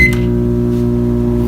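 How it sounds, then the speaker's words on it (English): A microwave oven hums steadily with a low drone, opening with a short high electronic beep at the start. "I'm just going to put it in the microwave to warm it up a little bit."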